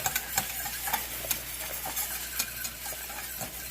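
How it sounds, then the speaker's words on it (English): A whisk taps and clicks against a bowl in quick irregular strokes while pepper is whisked into a mixture, close and clear over a low steady hum, with no talking. "I'm going to just take my whisk and whisk that in so it breaks down that pepper a little bit"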